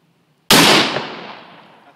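A single deafening blast from a Smith & Wesson 460 revolver, a sharp near crack that rolls into a long booming decay over more than a second, with no voices during the shot.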